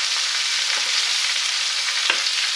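Onions sweat in a frying pan with a dense, steady, fairly loud sizzle that holds evenly close up, and one brief stirring scrape near the end.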